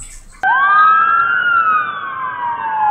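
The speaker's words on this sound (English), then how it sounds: "this ambulance passes by with the siren on" An ambulance siren sweeps in abruptly and wails loudly as the vehicle passes close by on a road, holding a long rising-and-falling tone that slowly fades, with no voices present.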